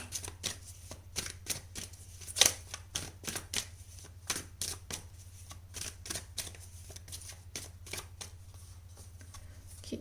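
Tarot cards shuffled and dealt in a steady run of crisp, close riffling snaps and flicks, one sharper slap partway through, over a low constant hum with no talking.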